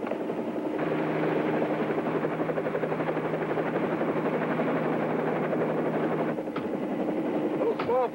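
A helicopter flies nearby, its rotor and engine making a steady, loud thrumming drone that fades somewhat near the end, where a brief voice breaks through.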